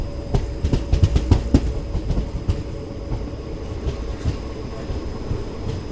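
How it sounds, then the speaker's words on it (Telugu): A Cherlapalli to MGR Chennai Central superfast express train pulls into Miryalaguda station, its wheels clacking in a loose, uneven run of beats that gradually fade to a low rumble, with no voices heard. "మన ట్రైన్ వచ్చేసి మిర్యాలగూడకి అయితే రీచ్ అయింది."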